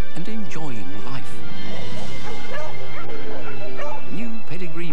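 Dogs yip, whimper and bark in short bursts in a Pedigree dog food TV advert, mixed under a narrator's voice and background music.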